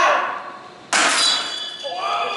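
A glass object shatters with a sudden loud crash that breaks into a bright, ringing spray of fragments, then tinkling and settling debris fades out; a faint voice sits under the start.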